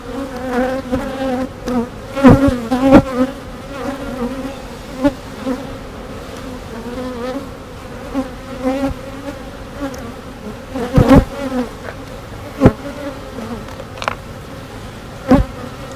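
Honeybees buzz around an open beehive during an inspection, a dense continuous hum close to the mic with occasional louder passes and a few knocks, no talk.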